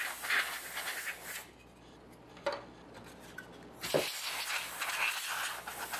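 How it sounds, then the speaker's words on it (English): Compressed air spray blasts dust off an Atari Jaguar Skunkboard case in short hissing bursts, two longer sprays separated by a quiet gap and a brief puff, close up. "just get some compressed spray"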